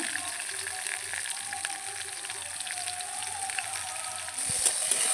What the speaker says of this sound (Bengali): কড়াইয়ের মধ্যে সামান্য একটু তেল দিয়ে আমি সবজিগুলো আগে একটু ভেজে নেব